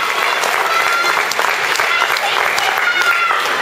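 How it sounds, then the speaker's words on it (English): Loud, continuous applause from a crowd at a 2009 ANB bodybuilding pose down, a dense roar of clapping with audible cheering mixed in and no break. "Let's give them a big round of applause."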